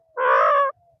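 A pet parrot gives a single harsh, drawn-out squawk lasting about half a second, close and loud, against an otherwise quiet background.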